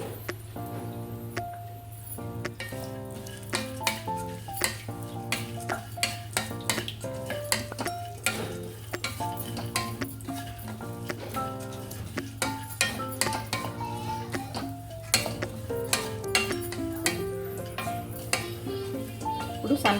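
Sunflower seeds fry and are stirred in a pan, with dense, rapid clinks and scrapes of a utensil against the metal running steadily throughout over a low constant hum.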